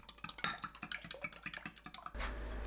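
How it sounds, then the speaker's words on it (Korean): Four eggs with fine salt and mirin being beaten in a bowl, a fast even run of light clicking whisk taps for about two seconds, close and alone, then a steady hiss. "계란 4개, 고운 소금 2꼬집, 미림 1큰술 넣고 계란을 풀어주세요."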